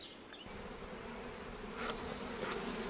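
Bees buzz steadily around mountain-honey beehives beside a farm in Abkhazia, a dense continuous hum with a few individual insects passing close by.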